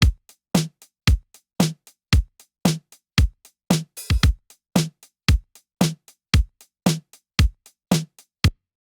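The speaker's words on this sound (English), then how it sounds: "this is how the drum pattern sounds in the end" A layered drum pattern built from kick, snare and several stacked hi-hat samples for a funky summer dance track plays as a steady, punchy loop, with crisp transients repeating at a regular groove and nothing else heard.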